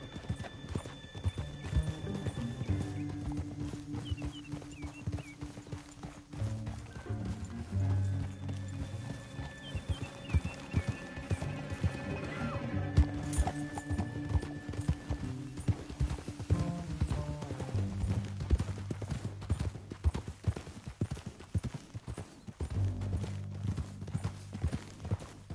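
Horse hooves clip-clop steadily in Red Dead Redemption 2, with several horses moving together and occasional neighs and whinnies over a continuous music bed, no talking.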